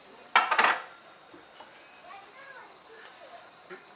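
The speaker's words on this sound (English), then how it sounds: "There go the green peppers." Green peppers go into a pot of caldo de res soup with one loud clattering splash and knock against the metal. Faint kitchen clinks and distant household sounds follow.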